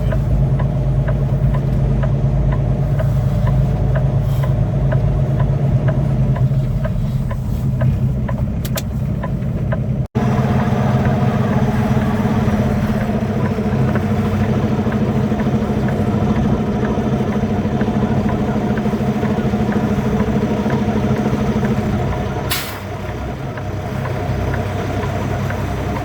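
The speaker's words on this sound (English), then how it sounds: "Preparing to back into that trailer because it has to be this one." A truck engine idles steadily while the rig backs toward a trailer, a loud, continuous low rumble close by with a brief thump partway through and no talking.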